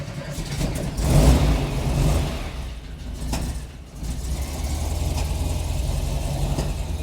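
A 1971 Volkswagen Squareback's engine turns over on a cold start and catches, revving up loudly before settling into a steady rough, popping carbureted idle.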